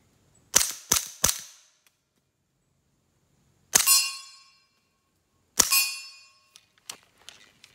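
A CZ Scorpion fired through an Innovative Arms suppressor gives three quick sharp cracks, then two single shots spaced apart, each with a metallic ringing tail, followed by a few lighter clinks in a quiet outdoor setting.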